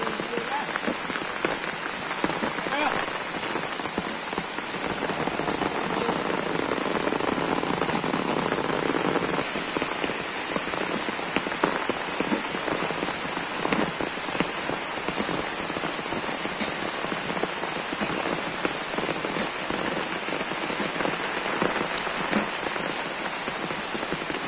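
Steady rain pours down on a Bangladeshi village, a dense unbroken hiss of drops pattering on surfaces for the whole stretch, close and even with no voices.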